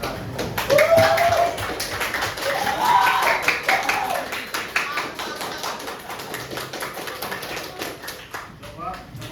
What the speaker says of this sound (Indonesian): beri aplaus untuk kelompok satu